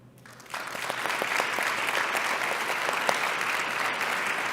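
A large conference audience breaks into steady applause that swells after a quiet start and holds dense and even, with a few sharper claps standing out.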